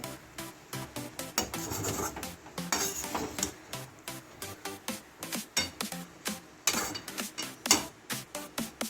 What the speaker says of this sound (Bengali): এবার ভালো করে নেড়ে নেব মিশিয়ে ভালো করে নিতে হবে